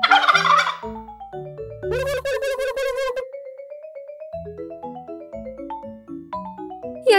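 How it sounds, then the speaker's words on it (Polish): A turkey gobbles in a loud, rapid warbling burst near the start, followed by a ringing, descending melodic jingle of tones, all close and clear with no speech. "Jak robi indyk? Indyk gulgocze."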